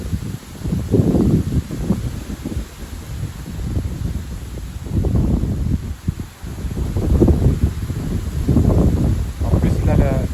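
Strong wind in a September gale gusts through trees still in full leaf, a rumbling roar that buffets the microphone and surges and eases in repeated waves.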